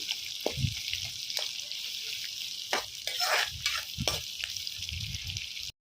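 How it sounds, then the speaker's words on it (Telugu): Curry leaves sizzle and crackle in hot oil with a steady hiss, broken by occasional scraping stirs of a spoon. "కరేపాకు కూడా వేస్తున్నాను ఇది కొంచెం బాగా ఏగనిద్దాము"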